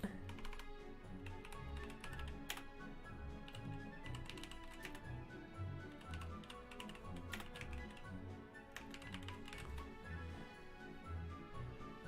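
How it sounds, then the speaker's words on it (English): Someone types on a computer keyboard with one hand, producing a faint, steady run of soft key taps with irregular gaps, quiet and close with no talking. "I can only type with one hand"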